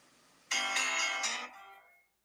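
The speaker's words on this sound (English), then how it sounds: "Now you got a phone call." A phone rings with an incoming call, a single bright electronic ringtone burst of about a second that fades out quickly against a quiet background.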